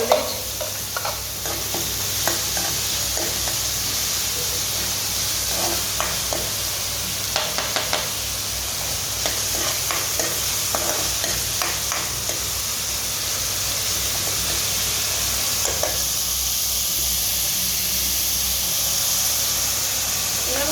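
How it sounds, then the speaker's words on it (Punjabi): Onions with ginger and green chillies fry in a pan for an onion-and-tamarind sabzi, giving a loud continuous sizzle and hiss, with scattered stirring clatter in the first half before the frying settles into a steady steamy roar. "ਇਹਨਾਂ ਨੂੰ ਫਰਾਈ ਕਰਾਂਗੇ"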